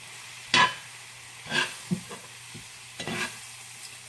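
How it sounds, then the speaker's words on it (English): A spoon stirs flour into melted butter in a pot, making a handful of separate scraping strokes over a soft, steady sizzle, close and fairly quiet. "we're going to start stirring in the flour to get it all coated in the butter"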